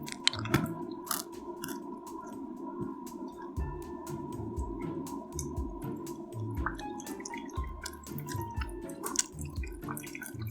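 Close, wet chewing and crunching of chocolate-covered coffee beans, steady for about ten seconds with soft clicks and smacking mouth noises, under quiet background music and with no talking.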